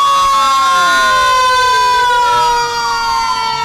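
An airport rescue fire truck sounds its siren at close range, loud sweeping wails rising and falling in overlapping tones, dominating with no voices.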